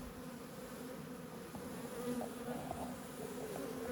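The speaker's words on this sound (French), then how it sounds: "on va voir en fait des abeilles qui battent le rappel du trou de vol jusqu'au plus loin" Honeybees buzz at a hive entrance, a dense continuous drone of many wings close by that swells slightly partway through, with no talk.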